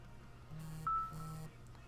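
A phone gives one short, clear notification beep over a low steady hum, brief and alone with no talk.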